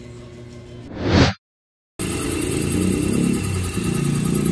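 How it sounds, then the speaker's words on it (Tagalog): A motorcycle engine rises in a brief rev, then cuts out to a short silence. It comes back running steadily at a mid-pitched idle, loud and close. "Naandar na yung motor"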